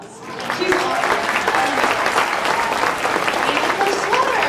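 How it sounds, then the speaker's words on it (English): An audience at a school orchestra concert claps steadily, a dense wash of applause that rises quickly and holds at an even level throughout, fairly close and without talk. "I think Miss Taylor needs another round of applause"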